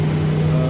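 Twin boat engines on a vessel called Spirit III, both running in sync at about 3,500 RPM while cruising, give a steady, loud, close drone with a strong low hum and no break.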